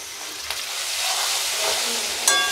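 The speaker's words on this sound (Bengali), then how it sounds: "এই সাঁতলিয়ে সাঁতলিয়ে এটা ভাজা ভাজা হবে" Spice paste frying with browned potatoes in oil for a banana flower curry, a soft steady sizzle with a brief stir or scrape and a small clink near the end.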